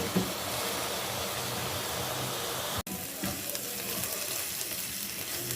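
Chicken malai boti cooks under a lid in a covered pan, giving a steady, even sizzle and bubbling hiss that carries on throughout, broken once by a brief cut in the sound.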